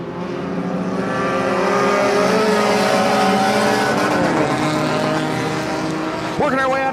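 Race cars on the final lap of a Young Guns feature at Winston Speedway, a loud sustained roar of several engines blending together with pitch shifts as the cars pass close by.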